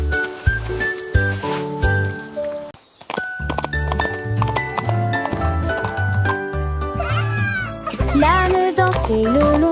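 Donkey hooves clip-clop in a steady rhythm through a village street in a French children's song, with little bells jingling under the bright instrumental music.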